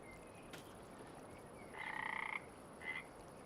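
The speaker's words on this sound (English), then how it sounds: "I hear frogs." Frogs croak near a dry former pond site on a farm, a faint buzzing trill followed by a shorter second call, heard over a soft steady outdoor background.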